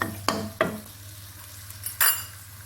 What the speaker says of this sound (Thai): ผัดไปให้หอม